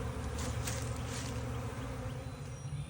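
Steady, dense buzzing of bees, close and continuous throughout, with no voices.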